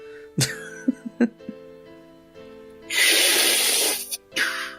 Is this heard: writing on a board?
no